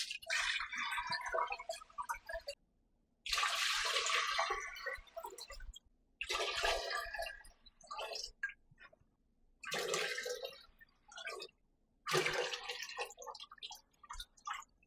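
Tap water runs into a soup pot being half-filled for Jamaican chicken soup, arriving in five separate splashing bursts with short silent pauses between them.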